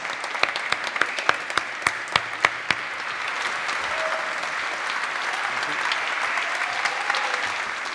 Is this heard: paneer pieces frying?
no